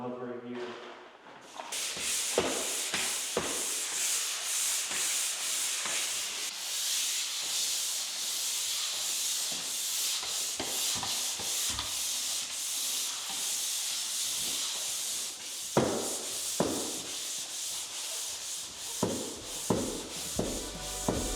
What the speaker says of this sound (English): He's doing everything with the pole sander and just by hand with the sanding sponge.